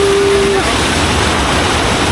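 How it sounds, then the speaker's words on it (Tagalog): Steady, loud rush of falling water at Bungan Bungan Cold Spring in Nabas, Aklan, a small cascade pouring hard with a strong current, continuous broadband roar throughout. "Mini waterfall. Pero ang ano, ang lakas no? Medyo malakas yung agos."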